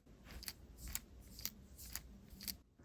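A small loose lock piece rattles inside a Tombow Mono Graph Fine mechanical pencil, shaken in five quick, evenly spaced bursts, close and quiet.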